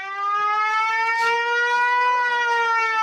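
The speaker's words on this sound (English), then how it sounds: "The siren is supposed to be heard for about 1 kilometre" Village warning siren set off through a satellite receiver, sounding one loud sustained wailing tone with a slowly shifting pitch that carries on steadily and alone throughout.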